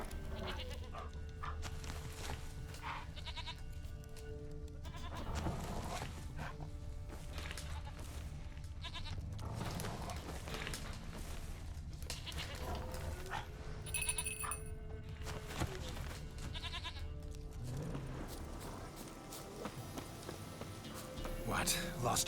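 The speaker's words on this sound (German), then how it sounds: "Da, Ziege." Goat bleats from The Witcher 3, several short calls scattered through a busy game soundscape with hoofbeats, ambient music and intermittent talking.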